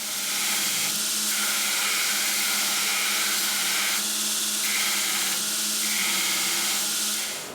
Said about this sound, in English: We're going to grind this down so it matches the end of our handle